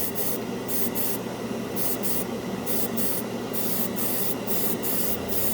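Steady airbrush hiss spraying cheap craft store acrylic paint onto a spoon, with short rhythmic pauses and bursts as the trigger is worked, close and continuous.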